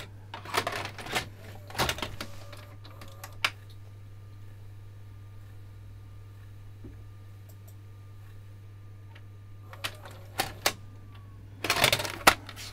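A Panasonic DMR-EZ48V VCR/DVD combo with a tape-loading fault runs its mechanism and ejects a tape, giving scattered mechanical clicks and clunks over a steady low hum, with a denser clatter near the end.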